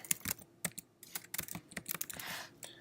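Fingers type a message on a computer keyboard in quick, uneven bursts of close, crisp key clicks with short pauses between them; no voices are heard.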